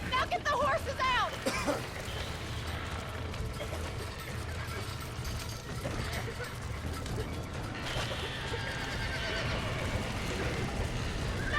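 Horses whinny sharply and hooves clip-clop in Red Dead Redemption, with game ambience and mechanical clatter around them. A person talks over the scene now and then.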